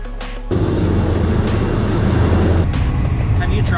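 Drift car engine at a Formula Drift event in St. Louis breaking in abruptly as a loud, sustained roar of broadband engine and tire noise, with a rising whine near the end.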